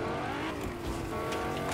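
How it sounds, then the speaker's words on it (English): A monster truck Lamborghini in the video game Fortnite drives with a steady, loud engine roar and faint tire squeal, continuous throughout without any voices. "We got the monster truck Lambos in this."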